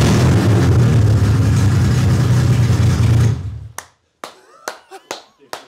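A restored BMW E30 engine roars loudly and steadily for about three seconds, then cuts off abruptly, leaving a few scattered sharp clicks and knocks in near silence.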